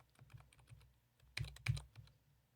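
Keys clack on a computer keyboard in a short quiet burst, soft taps at first, then two louder presses close together, with nothing else around.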